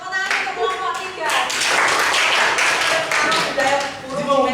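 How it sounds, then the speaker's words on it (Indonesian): Classroom applause for a student group after their presentation, steady hand clapping that lasts several seconds, fairly close and loud, with voices talking over it. "Tepuk tangan untuk kelompok 3."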